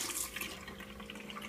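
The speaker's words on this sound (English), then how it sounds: "I also plumbed the sink, so we got this cool modern faucet. Thing's got some serious water pressure." A modern sink faucet with strong water pressure runs in a steady, close hiss and splash that stays even throughout.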